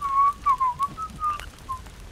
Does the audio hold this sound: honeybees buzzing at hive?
no